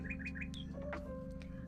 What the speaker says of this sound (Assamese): PARROT পেৰট পেৰট মানে ভাটৌ চৰাই